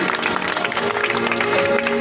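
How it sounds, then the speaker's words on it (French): A festival closing-ceremony audience claps for the MC, a brief loud burst of dense applause with a few voices and tonal sounds mixed in. "Applaudissez encore notre sœur Oumidou."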